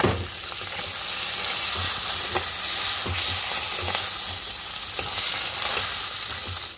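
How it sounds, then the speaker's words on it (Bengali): Fish heads fried red in oil in a pan, broken into small pieces and stirred. A steady loud sizzle with repeated scraping and knocking of the utensil against the pan, and no voices. "মাছের মাথাগুলি লাল লাল করে ভাজা হয়ে গেছে এগুলি এবার ভেঙে দিতে হবে"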